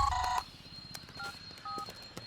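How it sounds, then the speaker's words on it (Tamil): Telephone keypad tones: a quick cluster of dialing beeps at the start, followed by a few separate single tones, clear over a quiet background. "நீங்கள் மிஸ்டர் ராவுத்தருக்கு ஃபோன் அடிங்க"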